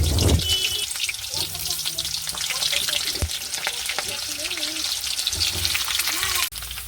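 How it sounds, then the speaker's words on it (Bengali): Pointed gourds frying in oil in a wok, with a loud steady sizzle, crackling spatters and occasional clinks of a spatula, and faint voices in the background. "পটলগুলোকে ভেজে নিচ্ছি।"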